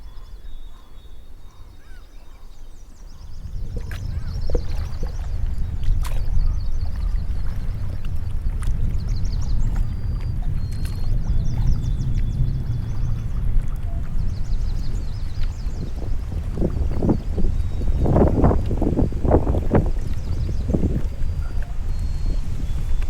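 Canoe paddling on open water as a paddler leaves camp heading north: a steady close wash of water with soft rhythmic splashes and drips that grow stronger near the end, no voices.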